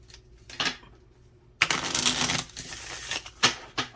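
A deck of message cards being shuffled, with a few short riffling bursts, a pause, then a longer, denser flurry of papery card flutter and small taps, fairly close and alone.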